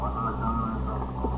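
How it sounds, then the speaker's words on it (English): A radio plays inside an apartment in a 1950s police radio drama, a muffled, steady hum-laden murmur heard through a door, low and continuous for a brief moment. "The radio was on inside."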